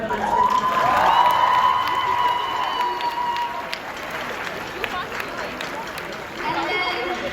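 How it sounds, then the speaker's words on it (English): A school assembly audience bursts into loud applause and cheering, with shouts and children's voices over a dense wash of clapping that stays steady and gradually thins over several seconds. "So we give them a round of applause."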